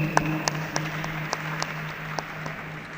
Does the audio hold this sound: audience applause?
yes